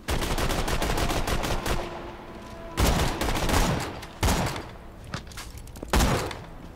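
Rapid gunfire in Borderlands 2, Tiny Tina's Assault on Dragon Keep, with dense bursts of shots and sharp loud blasts recurring every second or so, close and punchy, with no talk over it.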